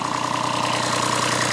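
A Kubota B7001 tractor engine idles with a steady, even, rapid chugging, close and continuous throughout.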